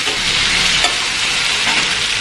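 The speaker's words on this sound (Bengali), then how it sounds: "আলুটা বেশ ভালো মতো ভাজা হয়ে গেছে, আমি দিলাম কাঁচা লঙ্কা 4-5টা, একটু ঝাল ঝাল করতে হবে।" Fried potatoes with four or five fresh green chillies sizzle steadily in a pan, a dense, even frying hiss that stays loud and close throughout, broken by a faint scrape of stirring.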